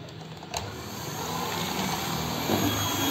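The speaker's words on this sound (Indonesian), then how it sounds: "lanjut ini kita mixer kembali menggunakan kecepatan sedang selama kurang lebih 5 menit" Electric hand mixer running at medium speed through cake batter tinted with strawberry paste, a continuous motor hum and whir, fairly steady and close, with no talking.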